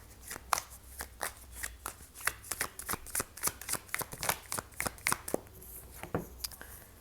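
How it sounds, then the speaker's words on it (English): A deck of tarot cards is shuffled and pulled in a steady run of crisp riffling flicks and slaps, close-up and fairly quiet, with no voice over it. "I am going to pull out a few cards about the rest of their understanding about this connection"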